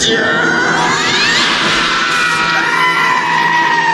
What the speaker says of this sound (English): Why is everyone screaming?